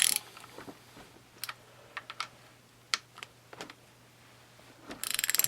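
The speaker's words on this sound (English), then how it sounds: "we'll take off the head bolts" Head bolts coming off the engine of a 1974 Honda XL70 with no compression: close, sharp ratchet clicks and metallic taps in irregular bursts, ending in a rapid run of ratcheting, with no speech.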